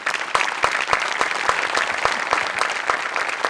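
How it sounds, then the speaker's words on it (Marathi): A studio audience at a Marathi comedy show claps steadily, with a dense wash of applause and sharp individual claps close by throughout. "मला असं वाटतं सचिन मोटे आणि अमोल पाटील दोघांसाठी प्रचंड टाळ्या व्हायला पाहिजे"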